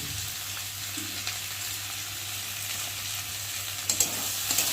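Spice paste with turmeric, salt and chili powder sizzling and frying with vegetables as they are sautéed, a steady soft hiss under a low hum, with a few faint stirring clinks near the end.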